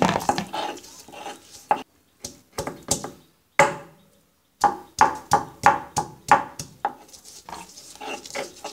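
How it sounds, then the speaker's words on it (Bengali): Chopped onion, about half a cup, is worked by hand on a traditional grinding stone while preparing a Bengali bottle gourd seed vorta. Close, irregular scraping and knocking strokes come in short bursts separated by brief pauses, with no talking. "এবার আমি আধা কাপ পরিমাণ পেঁয়াজ কুচি বেটে নিব।"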